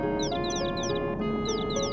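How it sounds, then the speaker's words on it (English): Little bird chirps in the video game Final Fantasy VII, repeated quick descending tweets in clusters over a steady ambient music bed. "you can hear those little bird sounds"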